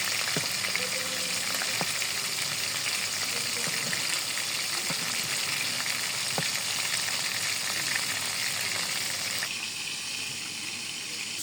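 Chicken balls fry in hot oil, making a steady, dense crackling sizzle close by that holds without a break, with a few small clicks and bubbling pops through it.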